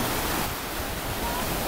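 Sea waves washing on the beach at Tuxpan, Veracruz, a steady broadband surf wash that stays close and even for the whole moment with no talk over it.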